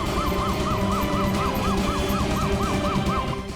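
An ambulance siren wails in a rapid repeating yelp pattern, steady and fairly loud over traffic rumble.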